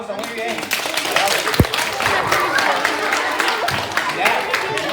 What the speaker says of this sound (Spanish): Bravo, nos damos un aplauso, muy bien.